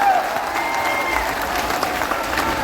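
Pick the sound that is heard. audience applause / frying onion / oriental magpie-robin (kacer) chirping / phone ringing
audience applause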